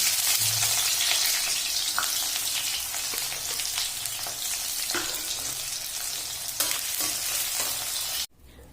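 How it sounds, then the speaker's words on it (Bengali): Chopped onion and garlic hitting hot oil in a home kitchen, a dense bright crackling sizzle with occasional stirring scrapes, ending abruptly. "তেল গরম হয়ে গেছে এবার আমি পেঁয়াজ রসুন দিয়ে দিচ্ছি"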